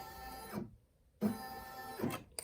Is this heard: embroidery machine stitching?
yes